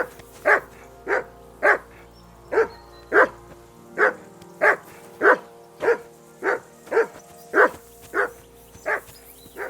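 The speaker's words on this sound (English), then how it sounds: "I assume you can hear that damn dog of yours barking." A dog in the medieval video game Kingdom Come Deliverance II barks repeatedly, about a dozen loud, evenly spaced woofs close by, with a low ambient hum underneath and no talking.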